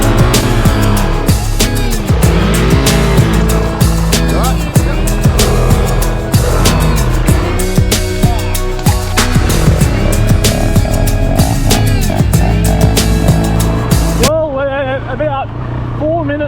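A motorbike rides a dirt single trail track near Cairns, its engine droning loud and close with shifting revs and bumps throughout, someone talking over it, then the ride noise cuts to quieter sound.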